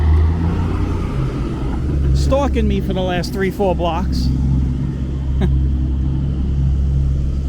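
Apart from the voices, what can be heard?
truck driving alongside on a city street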